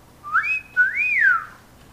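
A person whistles in imitation of a parrot's wolf whistle, a clear two-part call with a rising note and then a longer rise-and-fall. It sounds close and alone.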